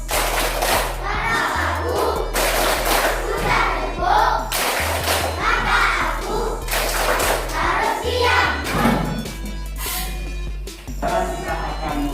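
Students perform the rhythmic "tepuk diam" clapping routine in a classroom, patterned group claps and thumps over a steady low hum with children's voices mixed in.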